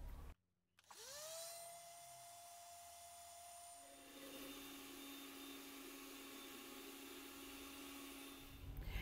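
A kitchen blender whirs steadily as it mixes coconut milk and other ingredients for a gelatin cream dessert, a loud continuous motor whine that starts abruptly and shifts pitch partway through.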